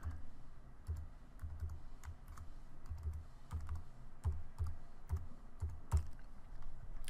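Keystrokes tapping out an email address on a computer keyboard, steady quick clicks in short bursts with brief pauses, close and fairly quiet, no talking.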